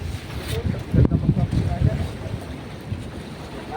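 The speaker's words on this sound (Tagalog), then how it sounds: "Mahangin no?" Wind buffets the microphone aboard a fishing boat at sea during an overnight trip, a steady low roar with stronger gusts near the one-second mark, and voices are faintly heard underneath.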